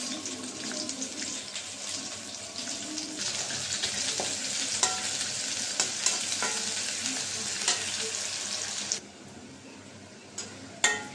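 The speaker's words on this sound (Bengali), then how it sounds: "তেল দিয়ে দিলাম। পেঁয়াজ কুচি দিয়ে দিলাম" Steady crackling sizzle of chopped onions and green chillies frying in oil, with occasional clinks and scrapes of stirring, the hiss dropping quieter near the end.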